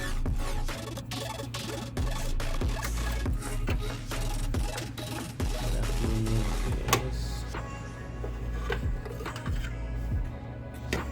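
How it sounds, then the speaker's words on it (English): Small brush sweeping loose threads out of a Ricoma embroidery machine, a close, continuous scratchy brushing with quick repeated strokes and occasional light clicks of parts. "this little brush takes out all the extra threads that are there"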